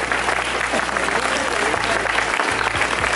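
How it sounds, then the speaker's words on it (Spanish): Loud, dense applause from a crowd at a school sports recognition ceremony, steady sustained clapping filling the whole stretch with no pause. "Fuerte el aplauso para ellos"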